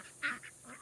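Ducks being chased off by turkeys give a few faint, distant quacks and honks, one slightly louder than the rest, over a quiet outdoor background.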